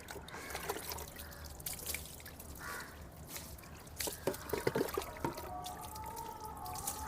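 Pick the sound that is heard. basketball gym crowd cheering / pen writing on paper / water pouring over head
water pouring over head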